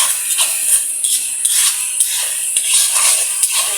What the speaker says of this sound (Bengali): দেখুন আমরা মশলাটাকে সুন্দর করে কষাই নিচ্ছি।